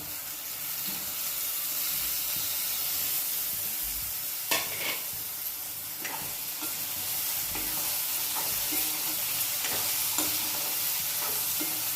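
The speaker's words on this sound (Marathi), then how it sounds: "आता याच्यात आपण टमाटे टाकून देऊ. हे टमाटे टाकले." Tomatoes added to a frying pan hiss in a steady sizzle, broken by several sharp clinks and scrapes from stirring, with no voices.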